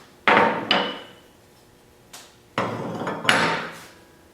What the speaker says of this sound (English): you can hit this outside of the chassis and drive the rivet over